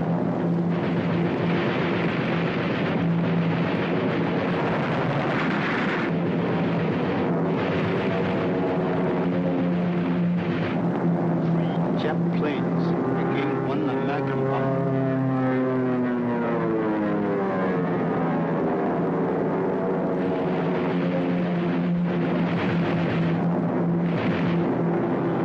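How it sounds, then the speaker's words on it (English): A Japanese propeller plane flies overhead in a 1942 wartime film scene, its engine droning continuously and sweeping in pitch as it passes close by, over a steady background hum. "That was a Japanese plane which came"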